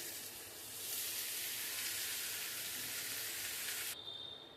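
Lightly heated mustard oil poured over raw pickle spices, giving a steady bright sizzle that swells over a second and holds at moderate volume before cutting off near the end.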